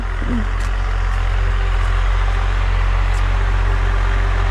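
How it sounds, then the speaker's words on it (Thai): A tractor engine runs steadily nearby in a rice field with a deep, constant low rumble that stays even throughout. "เสียงรถไถอาจจะดังแน่นะ"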